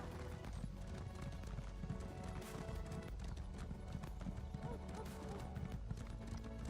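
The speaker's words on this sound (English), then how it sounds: "And off we go again on the stupidly slow horse." Steady clip-clop of horse hooves trotting in a rhythmic pattern in the video game Elder Scrolls Online, mixed with faint background music and ambient noise.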